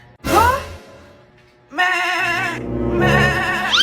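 A goat gives three loud, wavering bleats, the first short and the next two long and drawn out, close and clear with brief gaps between them.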